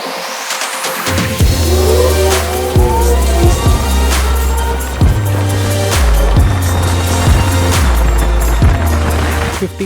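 An Ather 450X electric scooter's whining motor rises in pitch again and again in quick stepped bursts, like rapid acceleration through gears, loud and close.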